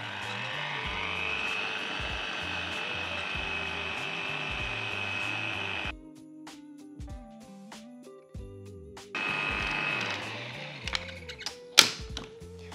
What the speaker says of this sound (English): we're going to leave this to mix until it's perfectly smooth